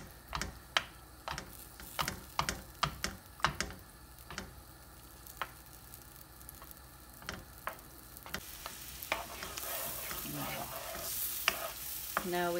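Fat melts in a frying pan with a soft, steady sizzle. Sharp clicks and taps from stirring or utensils come at irregular moments, and the frying grows louder toward the end, with no talk.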